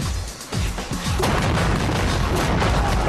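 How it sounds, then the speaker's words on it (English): Pirate cannon firing at a ship at sea, sounding as a heavy boom followed by a dense, sustained roar of gunfire and blasts that fills the rest of the moment loudly. "The pirates fire their cannon"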